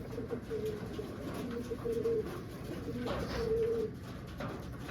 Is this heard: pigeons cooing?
yes